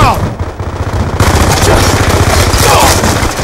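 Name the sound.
gunfire in Call of Duty: Black Ops 2 video game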